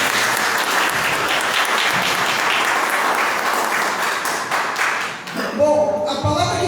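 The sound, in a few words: congregation applauding in church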